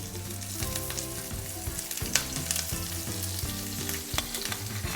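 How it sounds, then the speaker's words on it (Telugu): Chopped garlic and chilli frying in oil for a restaurant-style chilli chicken sauce, a steady close sizzle with scattered sharp crackles and spits running throughout, no voices over it. "సాస్ కోసం ఆయిల్ పెట్టి అందులో గార్లిక్ చిన్న తరిగాను, గార్లిక్, చిల్లీ"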